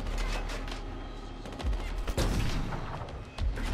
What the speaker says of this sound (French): je t'ai vidé un chargeur sur la gueule